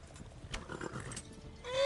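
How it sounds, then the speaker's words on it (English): A horse in the Kingdom Come Deliverance video game, with faint clip-clopping hooves and scuffling through the clip and a rising whinny at the very end, under a busy game soundscape. "Calm down, horse."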